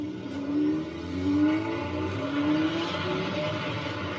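A motorcycle ridden fast by a helmetless young rider, its engine roaring steadily and close with rising and falling pitch sweeps as it revs and speeds along.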